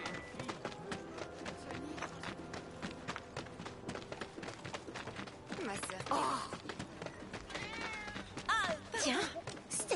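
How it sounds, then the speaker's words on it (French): A cat meows a few times, fairly faint and in the background, under ongoing game sounds and someone talking. "c'était pas un miaulement de chat à l'instant?"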